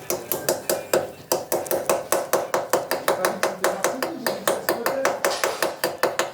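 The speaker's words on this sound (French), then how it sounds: "Ah, t'as pris un marteau plus léger là." Steady, rapid metallic taps of a hammer striking the steering column bearing on a BMW R90/6 motorcycle, around four blows per second, sharp and close, continuing evenly without pause.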